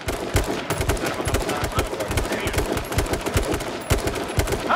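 Rapid gunfire rings out in the H1Z1 King of the Kill battle royale, with dense bursts of sharp automatic shots and scattered single reports cracking continuously over a faint voice.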